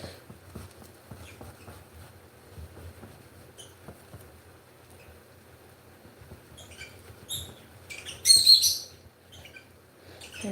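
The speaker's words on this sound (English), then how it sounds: "sorry about the birds in the background" Bird chirps ring out from outdoors near a kitchen, scattered and faint at first, then a louder burst of tweeting near the end over a low background rumble.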